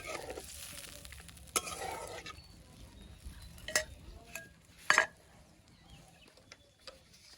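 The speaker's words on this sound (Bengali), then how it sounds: "মশলাটা খুব ভালোভাবে কষিয়ে নেব" Spice paste sizzling faintly in a pan in a rural kitchen, with quiet frying hiss and occasional clinks and scrapes of a spoon stirring against the pan.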